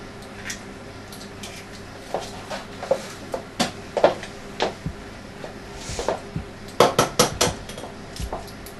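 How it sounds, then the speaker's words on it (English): Two eggs are cracked into a bowl in a home kitchen, giving a series of sharp taps and clinks of shell against the bowl at an irregular pace, with some dish and utensil clatter mixed in. "crack them into the bowl"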